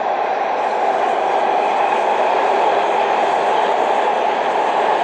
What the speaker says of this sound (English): Here comes a metro train.